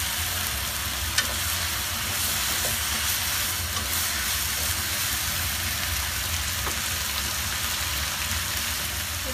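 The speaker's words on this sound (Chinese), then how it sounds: "咁又將佢一齊翻炒啦" King oyster mushrooms and peppers are stir-fried together in a wok. They give a dense, even sizzle like steady rain from start to finish, broken by a few faint utensil taps, with no talking.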